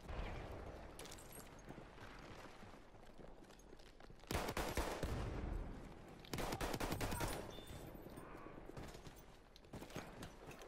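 Gunfire in the video game Battlefield 1: dense, rapid shots with two louder sustained bursts in the middle, layered over ongoing battle noise and no clear talking.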